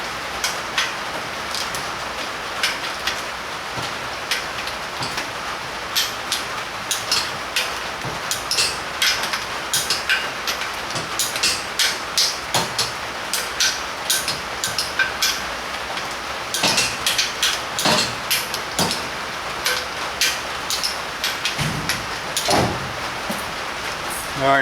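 Wrench snugging and torquing nuts on a VW 1915 engine build, with scattered metallic clicks and clanks at irregular intervals, close and moderately loud.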